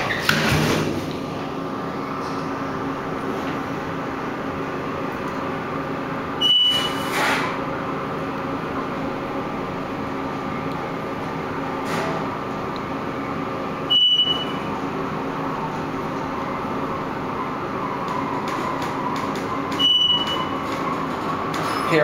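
A glass elevator inside a Macy's department store at a Ft Lauderdale mall runs with a steady mechanical hum, a chime sounding three times as it moves between floors, no speech over it.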